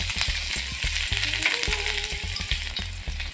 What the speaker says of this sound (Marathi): आता त्यात थोडं तेल घातलंय, त्यानंतर आपण जे अद्रक आणि लसूण होतं ते घालूया।